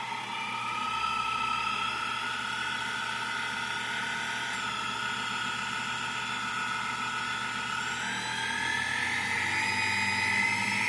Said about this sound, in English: Type A didn't produce enough power, so now I'm trying a stepper motor.